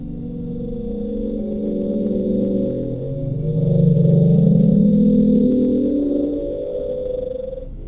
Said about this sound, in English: Apparently the sound of an ice quake, according to scientists.